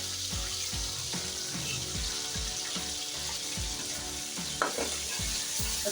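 Garlic ginger paste and green chilies sizzle in a pot of browned gobi chicken handi as a spoon stirs, giving a steady frying hiss with repeated scraping strokes, close and fairly loud.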